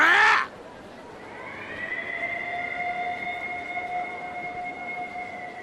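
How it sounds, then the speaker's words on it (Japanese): A siren wails alone after a short burst at the start, holding a steady, sustained tone at moderate volume. "この音は このサイレンは 強軍の襲撃だ"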